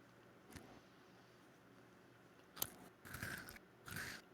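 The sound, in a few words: chewing crunchy ice cream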